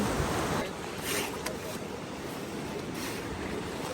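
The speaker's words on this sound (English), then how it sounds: "That's the ocean." Ocean surf at Hot Water Beach in New Zealand gives a continuous, broad wash of waves mixed with gusty wind buffeting the microphone, with voices faintly present underneath.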